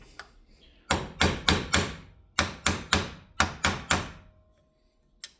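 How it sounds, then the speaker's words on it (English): A nylon hammer taps a seal into a Stihl FC75/FS66 in three groups of firm, even strikes, each ringing briefly, with a single faint tap near the end. "I'm hitting it even. I like my nylon hammer."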